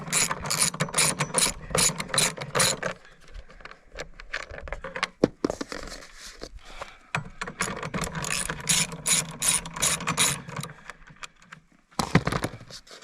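A hand ratchet removes the four 10mm bolts holding the shroud on a Yamaha generator, producing rapid, close clicking runs that stop and restart several times, loud and with no voices.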